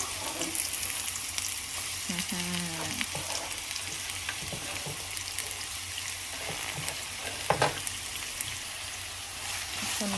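Chopped onions tipped into hot oil for a dried-fish (shutki) bharta, giving a steady loud frying sizzle with a few stirring scrapes and clinks partway through, no talking.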